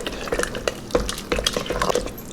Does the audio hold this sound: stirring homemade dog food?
yes